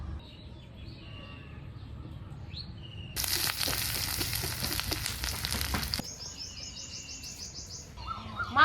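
Fried fish and potatoes cook down with spices in a pan, a loud sizzle with stirring scrapes lasting about three seconds midway, while birds chirp faintly in the background before and after.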